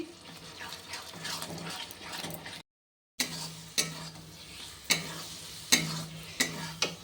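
Masala for egg curry being stir-fried in a kadhai, with a steady sizzle and regular scraping strokes of the spatula against the pan, broken by a brief silent gap.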